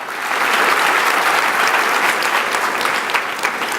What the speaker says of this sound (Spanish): le damos un aplauso a Dios por todo lo que hace en esta iglesia